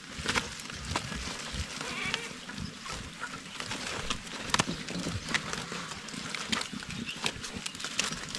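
Goats kept on a farm, including a castrated male recovering from orf, call out amid farmyard bustle with scattered knocks and shuffling; bleats rise faintly over a steady outdoor background.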